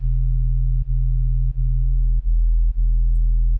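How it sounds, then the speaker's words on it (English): Synthesized sub bass sine tone with a second harmonic layered above it, built for drum and bass production; a loud, steady low hum sustains alone, briefly retriggering about every second. "So there's your sub, and then you'd have above it another harmonic."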